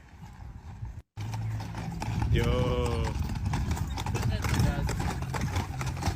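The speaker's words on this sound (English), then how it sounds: "they're delivering it on a horse carriage" Clydesdale horses pull a carriage down a city street in Washington, D.C., their hooves clip-clopping steadily under loud crowd noise, with a short whinny-like call partway through and people talking nearby.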